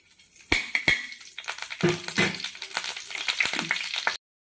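Mustard seeds crackle and pop in hot oil, a busy stream of sharp little snaps over a steady sizzle.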